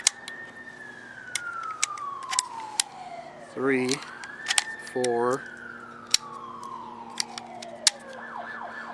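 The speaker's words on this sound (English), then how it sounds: "Sorry about those sirens." A wailing siren rises and falls across the whole stretch, moderately loud, while a voice counts aloud twice and sharp clicks tick throughout.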